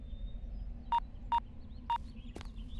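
Three short, evenly spaced touch-tone beeps as a telephone number is dialed, heard close and clear over a low background hum.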